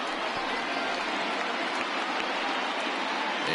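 A baseball stadium crowd in MLB The Show 20 rises to its feet with a dense, steady roar of cheering and applause, filling the whole space at an even level.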